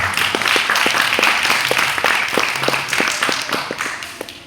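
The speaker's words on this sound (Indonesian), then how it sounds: "Tepuk tangan." An audience at a gathering claps together in a steady, rhythmic applause, with distinct individual claps standing out above the wash of hands, at moderate loudness.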